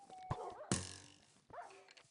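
Dog barks from a pet wolf companion in the Minecraft video game, a few short yips and a louder bark amid game sound effects, with no talk over them.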